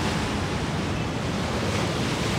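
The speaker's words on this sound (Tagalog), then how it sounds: "Lakas ng wave." Strong waves churn and crash against a passenger boat on a river in Manila, a dense, loud rush of water mixed with wind buffeting the microphone.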